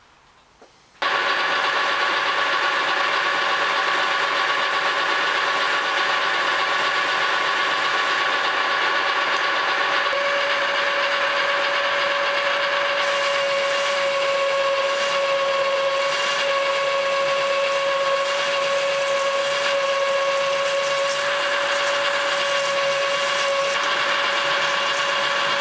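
A machine broaching a part on a K&T 2HL setup kicks in abruptly after a second of quiet, then runs as a loud, steady mechanical whine with sustained tonal hums. It continues unbroken to the end.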